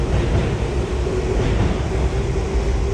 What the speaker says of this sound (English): Ah, oh, there's a train.